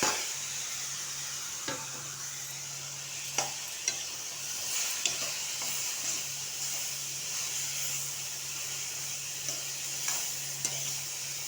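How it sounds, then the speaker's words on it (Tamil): Boiled karamani (cowpea) pods being sautéed in a pan give a steady, close sizzle and hiss, with light scraping stirs at irregular intervals and no talking. "நல்லா வதக்கிண்டே இருக்க வேண்டியதுதான்."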